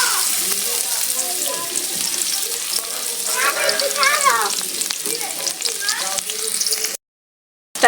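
Chopped onion sizzles steadily in hot oil in a wok, with stirring scrapes and faint voices in the background, before the sound cuts out abruptly near the end.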